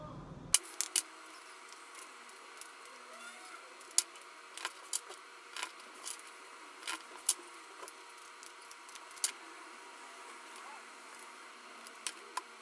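Tarot cards are being shuffled in the hands, producing scattered soft riffles and sharp little snaps and taps that come in irregular bursts close by against a quiet background.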